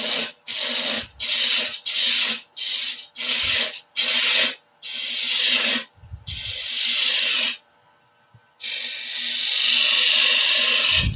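A spindle gouge cuts deep into wood turning on a lathe, making a string of loud, close rasping scrapes in short bursts, then two longer passes after a brief pause.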